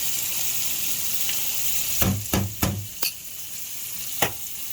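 Pasta being tossed in a pot with tongs over a steady sizzling, bubbling background, with several sharp metallic clacks and knocks spaced irregularly, clustered in a quick series then a couple more.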